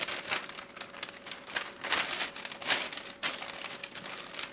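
Sheets of paper for a flared sleeve pattern being folded and creased, giving repeated crinkling rustles in short bursts. The sound is close and moderately loud, with no talking.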